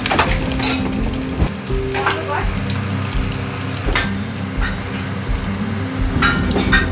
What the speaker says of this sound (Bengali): পেঁয়াজ কাঁচা লঙ্কা এবং ডিমগুলো একসাথে ভেজে নিচ্ছি।